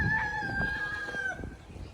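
A rooster crows in a long drawn-out call, fairly close, with other fowl clucking and calling faintly in the background.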